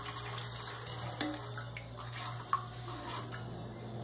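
Water running and trickling into a toilet tank while a new fill valve is fitted, a steady low flow with a faint hum and a couple of small knocks, no talking.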